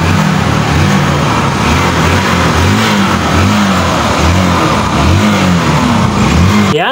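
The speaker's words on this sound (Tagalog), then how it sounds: "isang sipa lang, umandar na" A Honda TMX Supremo motorcycle engine fires up on a single kick and runs with a loud, close, steady putter and light rhythmic revving throughout, with no voices.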